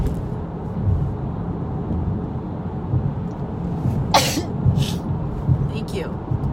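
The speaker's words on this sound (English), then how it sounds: "I feel like sneezing, okay, so wait for it." A person sneezes twice in quick succession, the bursts sharp and close, standing out above a steady rumbling background hum.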